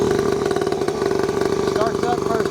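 A Hawk X-Pro 50cc motorcycle engine, already warmed up, running at a steady, close, buzzing idle with a rapid, even putter throughout.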